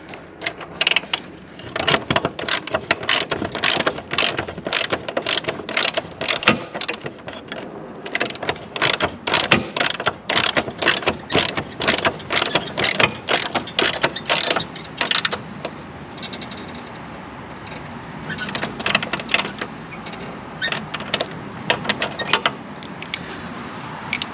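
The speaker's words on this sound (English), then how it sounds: "when we're running the socket wrench" Socket wrench ratcheting on a Toro TimeCutter mower during discharge chute replacement, a long run of rapid, close clicking strokes in steady bursts with brief pauses between them.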